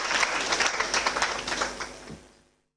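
A studio audience gives a police commander a dense round of applause, many hands clapping loudly together before the sound fades out near the end.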